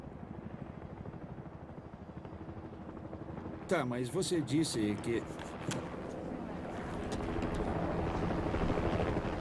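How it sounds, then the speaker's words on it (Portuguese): A helicopter's rotor thumps steadily overhead, growing louder and closer over time, while people talk nearby. "Tem um helicóptero sobrevoando."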